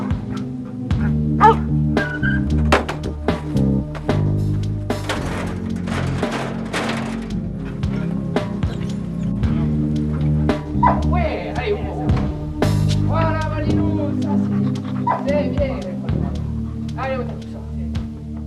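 A search and rescue dog barks and yips in short bursts during a search exercise, with someone narrating throughout.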